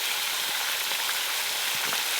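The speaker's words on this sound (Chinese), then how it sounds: "煎鱼头的时候加点这个姜一起来煎" A fish head fries in hot oil with ginger in a wok, giving a steady, close hiss of sizzling and light crackle throughout with no talk.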